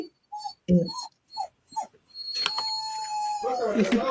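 Small dog barking and yapping in short bursts close by, with a whimpering howl, followed by a sustained tonal electronic beep and mixed noise near the end.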